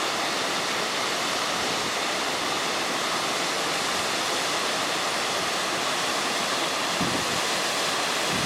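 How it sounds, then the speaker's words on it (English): Rushing water of Bub's Creek on a mountain hiking trail, a steady loud roar of flowing water that continues unbroken throughout, with no voices. "Bub's Creek."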